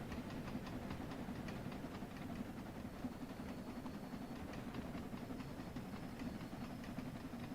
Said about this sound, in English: Diesel trains are the best sounding trains ever.